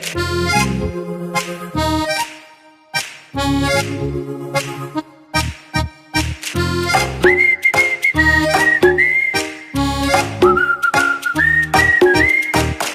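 A clear, close whistled melody with sliding high notes, played over loud rhythmic backing music that drops out briefly midway.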